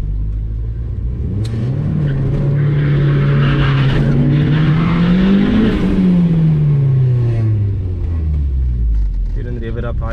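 Turbocharged 1.8T VW Mk2 GTI launching at a drag strip, its engine revving up in a loud rising sweep, holding, then climbing and falling away through the gears, with tire noise and a voice talking over it.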